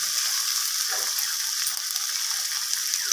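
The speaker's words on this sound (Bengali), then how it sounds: "তো আদা রসুনটাকে আমি টমেটোর সাথে এইভাবে কষিয়ে নিচ্ছি" Ginger-garlic paste frying with tomato in a pan, a dense steady hiss of sizzling with faint stirring scrapes, close and continuous.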